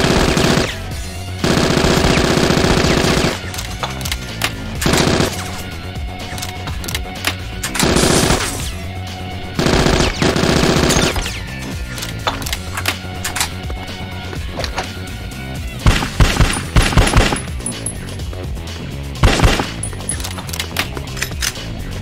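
Heavy gunfire in the Bad Boys 2 video game, loud sustained machine-gun bursts and rapid shots repeating over game music and impacts, with no talk.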